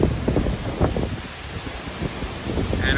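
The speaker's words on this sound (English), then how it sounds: "Extremely strong winds right now." Hurricane-force wind during Hurricane Sally, inside a parking garage, roars and buffets the microphone steadily, with gusty rumbling and rustling throughout.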